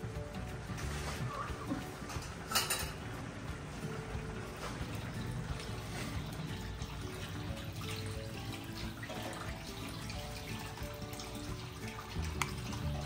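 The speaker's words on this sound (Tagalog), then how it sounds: "maglalagay na tayo ng tubig" Water pours steadily into a cooking pot for chicken sopas, a faint continuous splashing stream with small surges, close but low in level and without talking.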